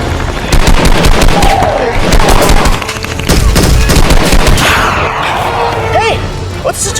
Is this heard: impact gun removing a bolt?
no